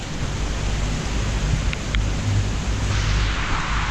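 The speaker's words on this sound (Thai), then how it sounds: "ฝนตกหนักครับ ฝนแรงมาก ฝนแรงมากหลบฝนใต้สะพานอยู่ครับ" Heavy rain pours down while someone shelters beneath a bridge, making a dense, unbroken roar of steady hiss at constant loudness, with no talking.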